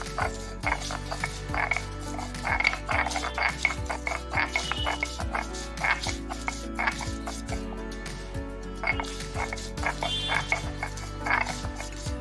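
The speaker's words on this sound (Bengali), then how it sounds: "এখন আমি একটা মশলা বেটে নিচ্ছি" Garlic and ginger are ground into spice paste on a grinding stone, a steady series of rhythmic scraping, grating strokes, close by and moderately loud, continuing for the whole stretch.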